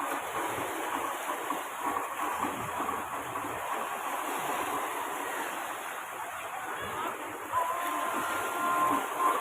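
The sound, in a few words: waves in a water park wave pool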